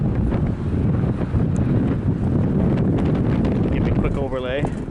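Strong wind in snowy weather buffets a camera microphone outdoors along a trail, a loud continuous low roar and rumble with gusty fluctuations, a voice briefly audible near the end.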